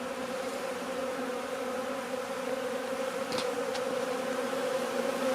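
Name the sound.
honeybees active at a hive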